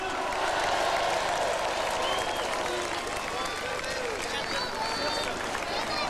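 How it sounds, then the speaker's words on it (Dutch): Stadium audience at PSV Eindhoven's 2005-2006 championship celebration giving a sustained round of applause, with scattered whistles and cheers rising over the continuous clapping. "De mensen achter de schermen geven ze een goed applaus."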